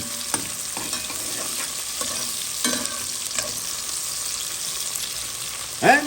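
Onion browning in a pan with a steady broadband sizzle, punctuated by occasional scraping stir strokes and a brief louder clatter near the end; no voices.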